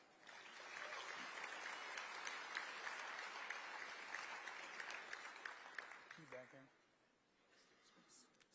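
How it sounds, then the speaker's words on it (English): An audience at the Iowa Faith & Freedom candidate event gives sustained, dense applause for about six seconds, then it fades and a voice begins speaking. "Give her another round of applause."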